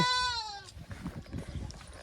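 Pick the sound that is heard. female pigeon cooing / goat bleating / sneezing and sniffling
goat bleating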